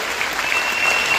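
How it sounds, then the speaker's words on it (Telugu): An audience breaks into a short burst of dense, even clapping, heard alone for just over a second. "మీరు బాగా చప్పట్లు కొడితే"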